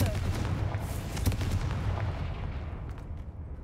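A Confringo fire spell blasts in Hogwarts Legacy, a loud explosive burst with a rumbling, crackling tail that slowly fades.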